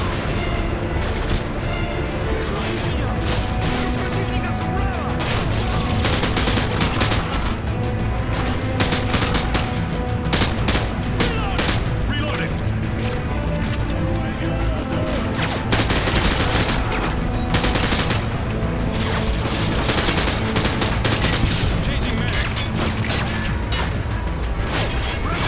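Relentless gunfire from the video game Modern Warfare 2 Special Ops: dense overlapping bursts of shots and heavy booms, loud and continuous with no pauses.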